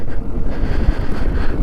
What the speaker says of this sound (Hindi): और हवा चलने लग गई है बहुत ज़्यादा ठंडी